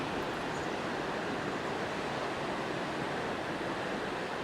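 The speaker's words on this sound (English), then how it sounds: "The beautiful waves, so relaxing" Ocean surf breaking along the rugged Oregon coast on the Samuel H. Boardman Scenic Corridor, a steady close roar of waves with wind, continuous and even, with no voices.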